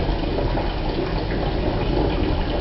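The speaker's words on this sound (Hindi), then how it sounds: "पानी लीक हो रहा है।" Water leaks from a water heater with a continuous, fairly loud rushing and trickling that holds steady from start to finish with no speech.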